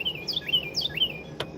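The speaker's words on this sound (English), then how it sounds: "it's a loud bird" Loud bird chirping close by at a fishing spot, several quick rising tweets repeating in pairs, with a short sharp click near the end.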